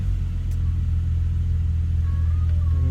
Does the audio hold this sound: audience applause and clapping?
no